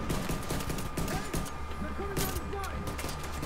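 Pistol fire in The Division 2, a run of sharp single shots spaced irregularly amid other battle noise, with a voice speaking briefly between the cracks.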